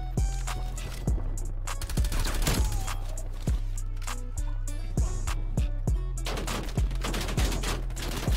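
LC10 submachine gun firing in Call of Duty: Black Ops Cold War, rapid automatic bursts with sharp individual shots repeating across the scene, loud and close amid constant game background noise.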